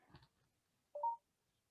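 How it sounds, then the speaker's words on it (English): A mobile phone lets out a single short electronic tone, quiet and isolated, after a faint low murmur at the start. "This was my phone talking."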